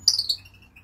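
A single bird outside gives a few quick, high chirps in a short burst. A faint steady low hum runs underneath.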